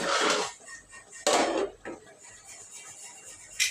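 Mint leaves pounded in a mortar while cooking Sunday bagara rice, several loud broadband thuds separated by quieter gaps, close and dry with faint kitchen background.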